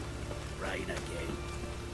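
Steady rain in the video game The Witcher 3, a soft continuous hiss of falling drops heard under a voice and ambient game sounds.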